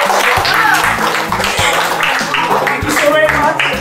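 A school audience applauds for Nargis at a Modern Language School gathering, a burst of loud, rapid clapping sustained for a few seconds with voices mixed in.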